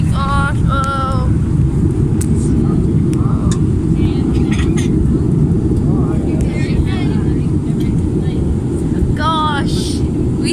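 An airplane landing and braking hard on the runway, heard from inside the cabin as a loud, steady roar throughout, with several voices exclaiming briefly over it.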